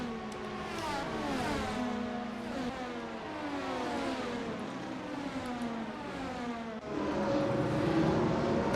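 Several Formula 1 cars race at Imola in an F1 video game, their high engines whining and swelling through overlapping rising and falling pitches, the sound growing louder toward the end.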